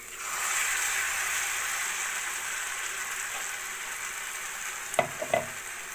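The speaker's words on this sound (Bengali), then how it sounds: "এবার ভালো করে ফুলকপিটাকে ভাজা ভাজা করে নেব।" Cauliflower frying in a pan with poppy seed and cashew paste, salt, turmeric and chili powder, a soft steady sizzle ending in a few brief clinks of a spoon against the pan.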